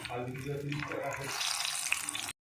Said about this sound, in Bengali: দেখো তেলটা গরম হয়ে গেছে, আমি দিয়ে দেবো বেগুন।